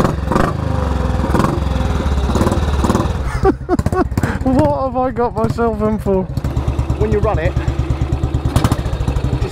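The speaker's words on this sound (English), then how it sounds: "So you hold the decompressor down, put your foot on there, and just draw the fuel in, then let your finger off." A classic motorcycle single from the 1949–1958 era is kicked over with the decompressor held, then fires and settles into a loud, close, uneven thumping idle as someone talks over it.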